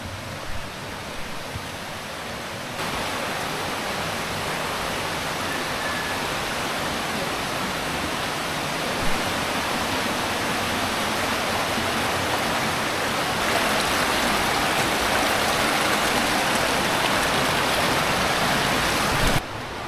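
A stream flows steadily along a mountain trail in Sagada, a continuous broadband rush of water that stays close and loud for the whole stretch, with no voices over it.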